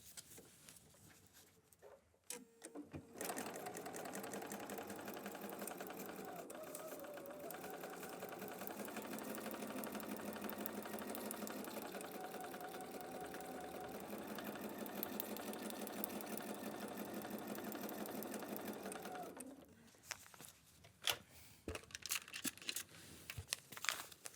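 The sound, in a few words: sewing machine stitching foundation paper piecing fabric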